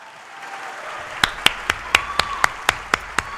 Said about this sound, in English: please give a round of applause for each other